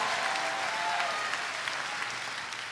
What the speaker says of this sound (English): Give Jesus a great big hand clap in Tampa.